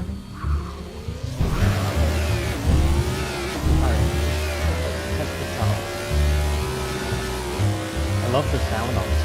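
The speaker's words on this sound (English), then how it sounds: "I love the sound on this car though. It sounds like a NASCAR. The V8 engine." A V8 race car engine in a video game revs loudly and continuously, NASCAR-like, pitch climbing and dropping through gear shifts, with a whooshing rush of speed.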